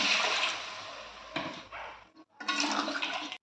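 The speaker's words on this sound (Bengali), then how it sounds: "এবার পরিমাণ মতন জল দিয়ে দিচ্ছি" Water poured into a hot pan of fried spice paste and turmeric while cooking an egg curry with potato and eggplant, a loud gushing splash for over a second, a brief pause, then another steady pour.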